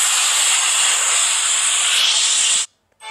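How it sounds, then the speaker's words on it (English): A cartoon ship's crack is welded with a loud steady hiss that runs for about two and a half seconds, then cuts off abruptly before a brief return. "Yellow Bard, we need to weld a crack on the ship."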